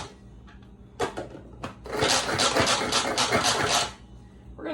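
A manual food processor chops onion: a couple of sharp clicks, then a burst of rapid whirring and rattling pulls lasting about two seconds, close and fairly loud, with no talk.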